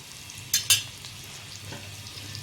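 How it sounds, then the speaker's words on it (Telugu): Onions going into hot oil for a mutton curry: two brief bright bursts of crackle close up, then a soft steady background over a low hum, with no voices. "ఆయిల్ కొంచెం హీట్ ఎక్కాక ఆనియన్స్ వేసుకోవడమే"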